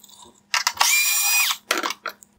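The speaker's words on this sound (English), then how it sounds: "I will first remove this T15 Torx screw from the top of the headlight." A driver whirs as it backs a T15 Torx screw out of the top of a 2012–2017 VW Tiguan bi-xenon headlight, with a steady close mechanical whine lasting about a second between short bursts of clicking.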